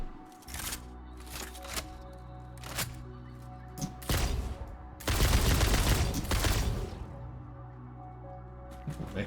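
Gunfire in the video game Satisfactory: several sharp separate shots followed by a dense, sustained burst of rapid fire, loud and close over a low steady hum, then a few more scattered shots.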